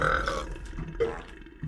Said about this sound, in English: You want to burp a couple times?